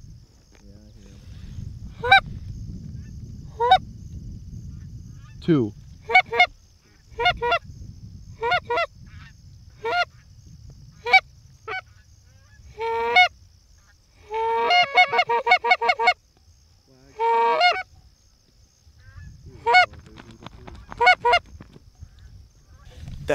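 Geese honking on an early-season goose hunt: a long series of loud, sharp honks, some isolated and some in rapid clusters, over soft wind and field noise, with a brief spoken word.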